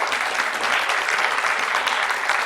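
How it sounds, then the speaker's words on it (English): A conference audience at a climate justice breakout session applauds a speaker, a dense, even patter of many hands clapping steadily and fairly loud for a couple of seconds, no speech over it. "We could give a round of applause for Leslie."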